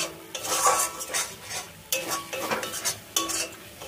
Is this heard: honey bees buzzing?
no